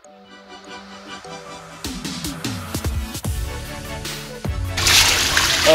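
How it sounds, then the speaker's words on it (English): Chlorinated water poured onto a hand during a budget backyard patio pond build: a few knocks and clatters lead into a louder splashing pour near the end, close by. "I'm gonna pour it onto my hand."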